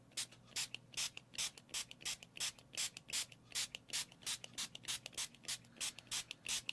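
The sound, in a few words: spray bottle mister spritzing water on painting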